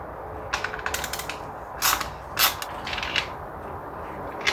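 Ratcheting and clicking of a socket wrench with an E8 inverted Torx socket loosening fuel rail bolts on a BMW during a valve cover gasket job, heard as close mechanical clicks and a few louder knocks, with no talking.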